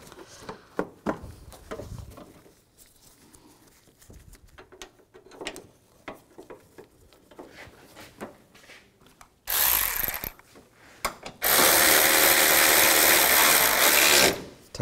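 Bolts being tightened on a windshield washer reservoir of a 1999–2006 Chevrolet Silverado 1500: scattered clicks and handling knocks come first, then two loud sustained bursts of a buzzing power-tool whir, the second lasting several seconds.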